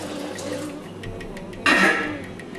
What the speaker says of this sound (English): So I'm going to add another 1 cup of water.